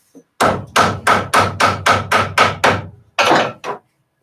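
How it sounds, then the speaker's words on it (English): Folded leather pieces hammered flat on an anvil: eight quick, evenly spaced heavy thuds, a short pause, then two more blows, close, loud and without talk. "Take them, fold them in half. Hammer them down."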